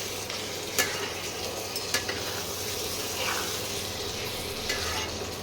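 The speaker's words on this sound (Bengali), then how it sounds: "আর একটু কষাতে হবে, এখনও ঠিক মতো তেল বেরোয়নি" Lamb curry with spices being stirred and fried in a pan, a steady close sizzle under scraping spoon strokes with a few sharper clinks against the pot.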